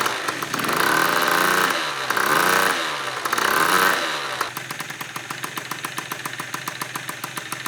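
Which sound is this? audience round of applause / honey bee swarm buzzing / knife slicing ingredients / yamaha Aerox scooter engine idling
yamaha Aerox scooter engine idling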